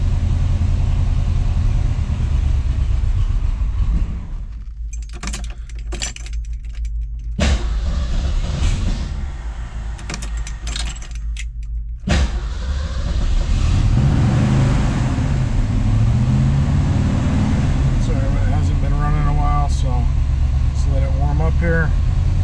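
A 1970 Ford Mustang Boss 302 V8 idles steadily as it warms up, a continuous low rumble throughout, with brief gaps and shifts in the engine note and some talk over it.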